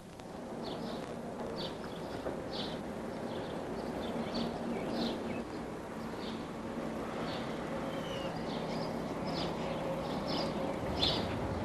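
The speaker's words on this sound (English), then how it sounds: "You hear the birds up in the trees." Birds chirp in large trees above a silent, flooded residential neighborhood during the 1993 flood, their short high calls repeating on and off over a steady low background hush.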